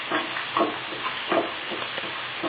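Okra frying in a pan as it is stirred, a soft sizzle with gentle scraping strokes that come and go in a loose rhythm, quiet and close, with no voices.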